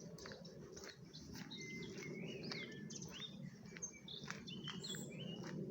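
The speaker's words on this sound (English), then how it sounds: "All the different bird songs." Many small birds sing and chirp together in a lively outdoor chorus, overlapping whistles and tweets over a steady low background hum.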